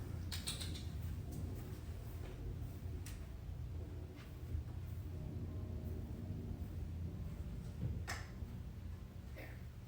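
A back door slowly creaking open, a long strained creak with a few sharp clicks and taps, fairly close and steady against a low background hum.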